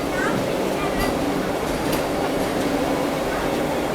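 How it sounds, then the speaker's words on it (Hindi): Vande Bharat Express electric train running into a station on the Chennai–Nagercoil route, a steady broadband roar of passing carriages with light rattles, constant and fairly loud. "अभी देखो अपने शेड्यूल टाइम से लगभग 13 मिनट पहले ये आ गई वंदे भारत एक्सप्रेस"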